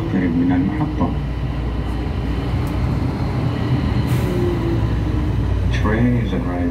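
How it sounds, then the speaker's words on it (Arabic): An airport train at Jeddah airport, Saudi Arabia, rumbling and rolling into a station with steady wheel noise, a faint brake hiss, and a short chime near the end. "Train is arriving to the station."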